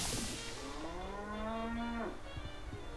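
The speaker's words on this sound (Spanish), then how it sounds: "Tiene una vaca lechera ahí abajo." A dairy cow in a Wallace & Gromit video game gives one long, drawn-out moo with a falling, bending pitch. It sounds close and clear and is followed by a short, quieter tail.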